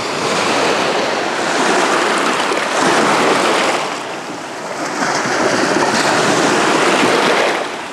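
Small sea surf washes onto the beach at 40 Let Pobedy in Anapa, a loud, close hiss of breaking waves that rises and falls in slow swells, mixed with wind buffeting.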